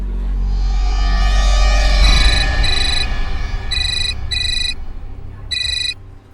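A telephone rings in repeated electronic bursts, loud and close, with a steady low hum underneath and no talking.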